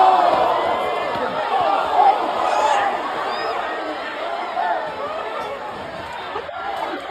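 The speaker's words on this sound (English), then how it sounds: "Listen to the crowd, listen to the sound of the fire and all that" A wrestling crowd from a recording of a ringside event, with broad chatter and shouting that swells and dips throughout, with a few louder bursts and no single clear voice.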